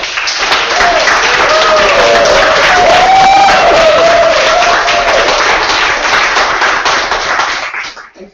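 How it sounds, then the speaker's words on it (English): Loud sustained applause from a large crowd, with cheering and shouting mixed in, fading out in the final second. "Okay, applause."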